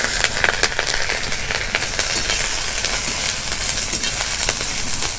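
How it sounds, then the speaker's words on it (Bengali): Chopped onion and green chili crackle and sizzle steadily in hot white oil in a wok, a dense close frying hiss with scattered pops and the scrape of stirring throughout. "তেলটা গরম হয়ে গেছে, তেলের মধ্যে কুচনো পেঁয়াজ আর কাঁচা লঙ্কাটা দিয়ে দেবো।"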